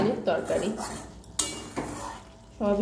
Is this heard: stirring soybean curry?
yes